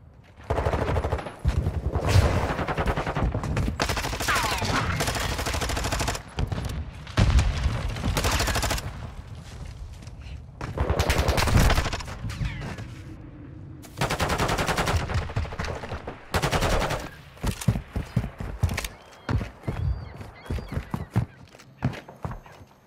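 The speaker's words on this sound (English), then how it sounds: "I shot my teammate on accident" Rapid automatic gunfire from a first-person shooter video game in ranked play, long sustained bursts separated by short pauses, loud and close, with a player's shots hitting a teammate.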